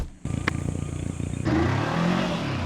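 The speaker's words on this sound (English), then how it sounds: "now we are hitting the road with the Voge 525 DSX" A Voge 525 DSX motorcycle rides on the road, its engine revving up in a loud harmonic drone before settling into a steady, rumbling cruise, close and continuous with wind noise.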